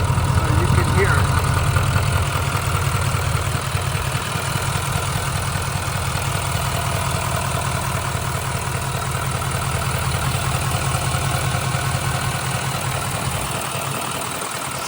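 A 2019 GMC Sierra 3500HD's 6.6 liter Duramax diesel idles under the open hood, a steady low rumble with a faint ticking clatter holding even throughout, close to the microphone.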